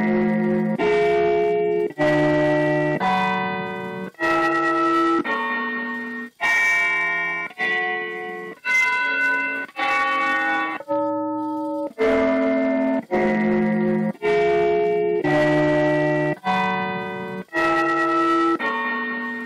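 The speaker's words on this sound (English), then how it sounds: "we're going to select different sounds for the bell to play" A model train DCC sound decoder plays a run of electronic bell tones, about fifteen evenly spaced, ringing chimes with bright harmonics and short gaps between them, loud and alone with no talk.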